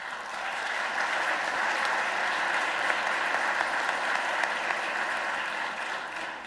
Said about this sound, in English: I'm going to let the Trump administration know you didn't clap for them.